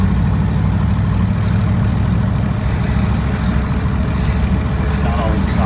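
A 1956 Ford Thunderbird on a test drive, its engine and exhaust giving a steady, loud low rumble from inside the car, with voices talking over it now and then.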